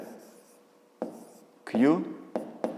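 A pen writes on paper during a fifth-grade geometry exercise, in short scratchy strokes with pauses. A voice briefly sounds partway through.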